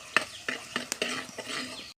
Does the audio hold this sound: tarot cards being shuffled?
no